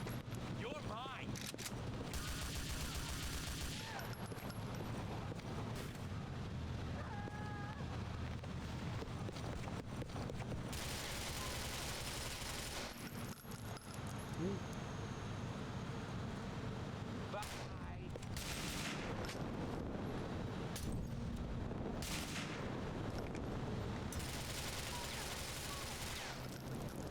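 Gunfire in a video game: repeated bursts and rapid volleys of shots, some long and sustained, others short and clipped, mixed with voices calling out over the battle throughout.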